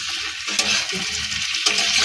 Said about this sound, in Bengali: চিংড়ি মাছটা দিয়ে আটটু কষাবো